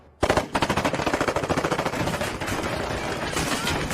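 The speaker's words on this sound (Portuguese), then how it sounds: "o Alfred vê o Batman em ação a usar a sua capa para se proteger dos tiros da gangue animal." Rapid bursts of automatic gunfire aimed at Batman, loud and close, with sharp rhythmic shots pounding steadily throughout.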